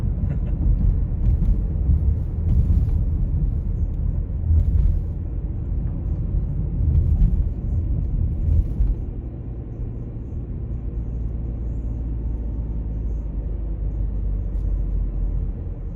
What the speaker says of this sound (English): I love driving the Disney Tunnel here